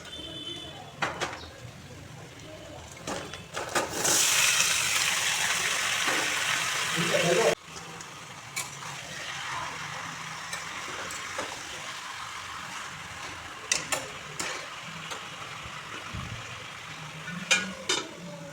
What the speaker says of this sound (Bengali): এখন আমি এতে চিকেনটা ঢেলে দিচ্ছি।